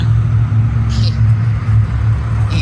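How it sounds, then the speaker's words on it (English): Highway traffic beside a parked lineup of trucks, a constant low engine and tire rumble with a few brief hissing passes, someone talking over it. "Sorry for the highway noise,"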